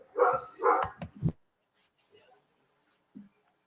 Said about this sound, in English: Let me go see the fuck this dog barking.